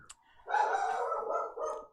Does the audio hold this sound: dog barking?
yes